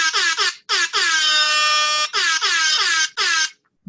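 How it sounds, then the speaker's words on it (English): Repeated loud blasts from a small air horn, several short honks and one long sustained blare, close and piercing with brief gaps between them. "I've got this little air horn."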